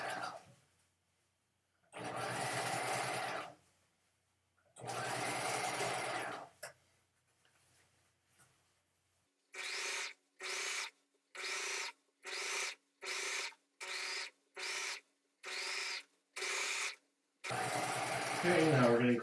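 A sewing machine stitches understitching along a bias facing at a garment neckline in several loud bursts: two long runs, then a quick series of short regular stop-start spurts, then a final longer run.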